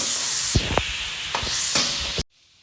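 A homemade secret masala sizzles and hisses loudly as it is sautéed and stirred in a hot pan for a rajma curry, with a few scraping knocks of the spoon, before the sound cuts off abruptly.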